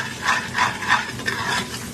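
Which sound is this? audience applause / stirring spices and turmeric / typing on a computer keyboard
stirring spices and turmeric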